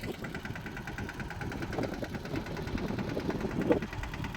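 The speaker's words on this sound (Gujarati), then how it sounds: "ટ્રેક્ટર હાલે, કાયદેસર હાલે હો" A farm tractor's engine runs at a steady, fairly quiet rumble with an even mechanical chug throughout, with no talk over it.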